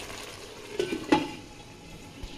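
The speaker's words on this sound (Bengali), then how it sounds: "এবার আলুটা দিয়ে আরেকটু কষবো।" Meat and potatoes are stirred and sautéed in a kadai, giving a soft steady sizzle with a couple of scraping, clinking spoon strokes against the pan near the middle, close and moderate in level.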